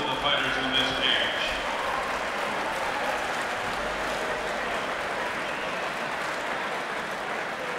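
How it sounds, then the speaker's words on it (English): Crowd applause and cheering fill an arena around a fighting cage at a combat sports event, steady and dense throughout, with an announcer's voice briefly over the noise at the start. "Let's have a big round of applause, please, for both of the fighters in this cage."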